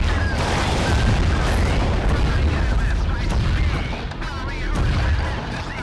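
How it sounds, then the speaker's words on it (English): Grenade launcher firing in System Shock 2, heavy booming blasts and rumbling explosions filling the clip, loud and close, with a voice speaking over them. "Trying to use my grenade launcher."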